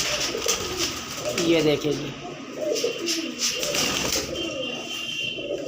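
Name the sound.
pigeons cooing in a pigeon shop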